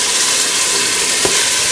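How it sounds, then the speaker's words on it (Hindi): Water poured into beef frying in separated ghee, giving a steady loud sizzle and hiss with a brief burst of bubbling midway, no voices. "मैं 1 गिलास पानी डाल दूँगी"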